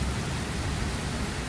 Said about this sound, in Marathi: आज पहिल्यांदा पाऊस पडलेला आहे, तो पण तासभर